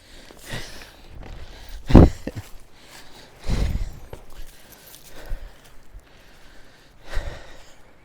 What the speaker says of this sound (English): you're probably just hearing all kinds of heavy breathing